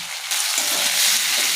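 Chili powder hits hot oil in a frying pan with a sudden steady sizzle, a loud broadband hiss that swells after a brief quieter start and holds close and continuous.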